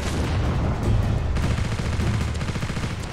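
A tank's coaxial machine gun fires in the war game Ravenfield, a loud continuous rattling burst with heavy low thumps in a toy-soldier D-Day battle.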